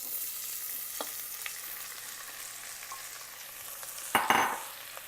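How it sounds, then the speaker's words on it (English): Onion frying in hot oil with fennel seeds and dried red chillies for mutton curry gives a soft, steady sizzle, with a few faint stirring scrapes and a louder burst of frying near the end. "Onion needs to be fried very well for mutton curry."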